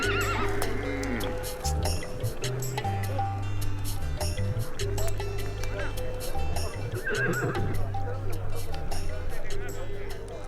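Horses neigh and whinny amid clopping hooves at a livestock and horse market at the edge of a Sahel village, loud and continuous, with a voice speaking over the busy scene.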